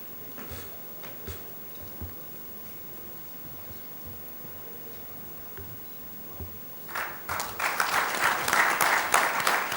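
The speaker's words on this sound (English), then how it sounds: "Let's have a round of applause" Audience applause at a business convention session, starting as faint scattered claps over a quiet room and swelling after about six and a half seconds into a louder, denser round of clapping that carries to the end.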